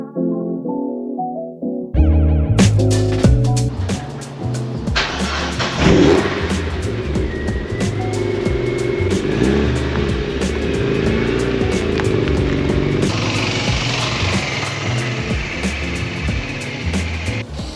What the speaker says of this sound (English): First thing to do though is get the bike out, get the car out of the way